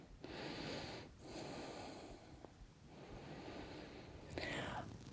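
A long, audible inhale and exhale during a power vinyasa yoga flow, airy breath sounds rising and falling over several seconds, close to the microphone, with a soft catch of breath near the end.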